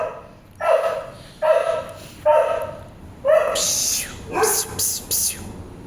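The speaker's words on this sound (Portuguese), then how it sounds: "os cachorros estão latindo." Dogs bark in a home, several loud, separate woofs at first, followed by higher yips and whimpers near the end, all without speech over them.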